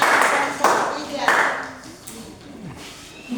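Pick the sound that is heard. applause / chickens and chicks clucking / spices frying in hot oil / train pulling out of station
applause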